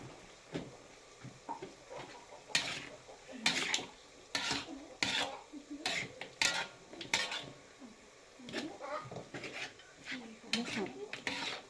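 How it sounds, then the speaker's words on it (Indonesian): Andaliman and ground spices stirred together in a pan, with repeated scraping and clinking strokes of a utensil against metal in irregular bursts, close by. "andalima bersama umbu-umbu. Kita aduk sampai rata."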